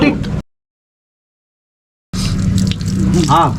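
Water gushes loudly into a cobra's burrow to flush the snake out, cuts off into silence, then pours again while people talk over it.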